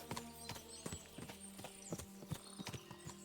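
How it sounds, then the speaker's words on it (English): Several horses in the medieval game Kingdom Come: Deliverance 2 clip-clop at a walk, their hooves knocking in an irregular overlapping rhythm, fairly quiet against a faint background. "What a lot of horses!"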